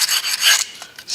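80 grit sandpaper wrapped on a square bar rasps back and forth against a transmission mounting surface, several quick close scraping strokes with short pauses between them.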